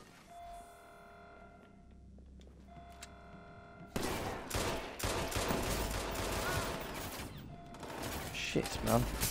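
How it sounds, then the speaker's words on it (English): A shootout in the video game Watch Dogs 2 opens with quiet game ambience, then breaks into loud, dense bursts of rapid gunfire that roll on without pause to the end. "I got incoming. I'll have to shoot my way out of here anyway."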